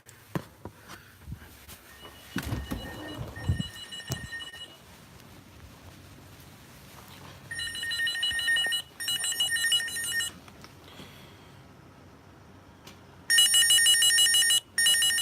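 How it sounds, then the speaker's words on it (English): A telephone rings in a hospital sterile processing area during a laminectomy tray assembly, in several bursts of bright electronic trilling separated by pauses, with handling clatter and quiet room noise between rings. "Phone ringing again."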